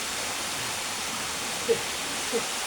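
Continuous close roar of a waterfall's falling water landing on someone's back, a dense steady wash with a couple of faint brief vocal sounds beneath it.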